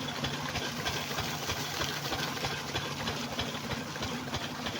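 A shallow irrigation pump engine runs steadily while watering a papaya field in hot weather, a close, continuous rhythmic putter with a regular low thump and no talk over it.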